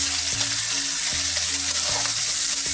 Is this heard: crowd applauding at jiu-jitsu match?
no